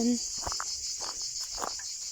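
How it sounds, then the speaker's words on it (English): A steady, high-pitched drone of cicadas in a Tuscan grove in August fills the background continuously, with a few faint rustles and soft steps underneath. "leaving the cicadas behind to sing their summer song"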